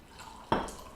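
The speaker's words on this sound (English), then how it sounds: "Pour it out, or pour it into the cup" Steeped tea poured into a cup: one short, quiet splash of liquid after faint background hiss, with no voices.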